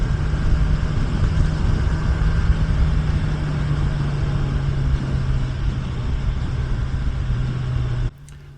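Kawasaki Ninja 1100SX SE motorcycle engine idling steadily, a close, continuous low rumble with a constant hum that cuts off abruptly near the end.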